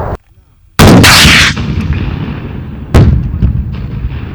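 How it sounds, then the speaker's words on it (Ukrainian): Two loud, sharp blasts of grenade launcher fire a couple of seconds apart during a border guard training exercise, each followed by a long rolling echo outdoors. "Саме зараз ви чуєте відпрацювання вправ одним з підрозділів прикордонної служби."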